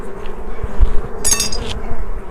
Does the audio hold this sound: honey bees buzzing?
yes